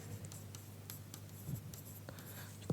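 Chalk scratches and taps on a classroom board during a chemistry lesson, with short faint strokes spread across a quiet room and a brief louder tap near the end.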